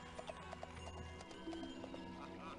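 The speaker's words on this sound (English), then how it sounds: "This house has 4 spare horses." Horses in the video game Zeus give repeated clip-clop hoof sounds and a brief whinny, faint and tinny, laid over a low steady game music backdrop.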